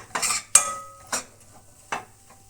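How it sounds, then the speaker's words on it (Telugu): Spoon stirring ghee into a kaju burfi mixture in a pan: four distinct scraping strokes with a sharp metallic clink near the start, close and fairly loud, with no voices. "ఇప్పుడు ఒక స్పూన్ నెయ్యి వేసుకోవాలి. బాగా మెత్తగా కలుపుకోవాలి."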